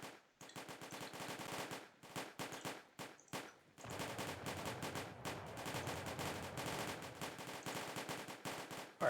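Musket volleys crackle in the video game Combat Directive: Napoleonic Wars, at Lappo in 1808, first as scattered bursts and then as a dense rolling barrage of overlapping shots that keeps on without pause.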